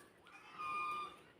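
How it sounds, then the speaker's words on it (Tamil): Black chickens kept in a cage at the Nilgiri Biosphere Nature Park give a short, faint clucking call with a tonal rise lasting under a second. "கருங்கோழிங்கெல்லாம் ஒரு கூண்டில் இருக்குது."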